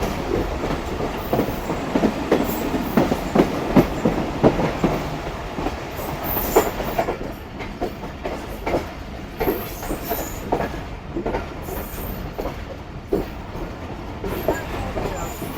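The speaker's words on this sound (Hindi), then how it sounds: "तो ट्रेन फाइनली बगैर रुके निकल रही है कोठी जंक्शन से" Rehman Baba Express passenger train running through Kothi junction without stopping, steady rumble with rhythmic clickety-clack of wheels over rail joints and occasional squeal, close and continuous throughout, with faint voices underneath.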